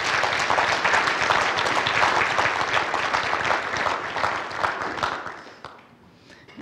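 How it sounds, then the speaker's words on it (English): Crowd applause at a 2018 signing day event for transportation students on a college campus, dense steady clapping that thins and fades out toward the end. "please join me in applauding the next generation of transportation professionals"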